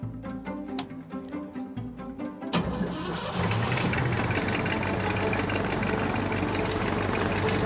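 A vintage propeller aircraft engine starts up: a few seconds of slow cranking pulses, then a sudden catch into a dense, steady, loud running roar from close by, with no talking.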